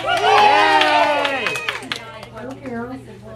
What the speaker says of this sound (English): Clap for Carol